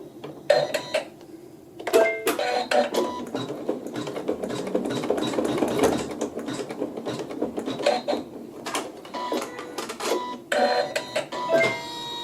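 Sewing machine stitching quilt pieces, the needle lowered at a match point, running in a steady mechanical whir with a few short pauses and restarts, close and fairly loud with no talking.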